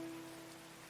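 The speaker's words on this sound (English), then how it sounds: "Again, raining." Rain falling in the medieval colony-building game Going Medieval, a steady, soft patter that stays fairly faint and even for the whole moment, with no voices over it.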